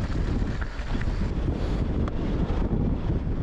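Strong wind buffets the microphone on a mountain bike trail in Fruita's Kokopelli Loops, a loud, steady roaring rush with gusty swells and no talking.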